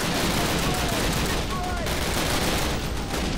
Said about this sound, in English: Lay down some covering fire for me.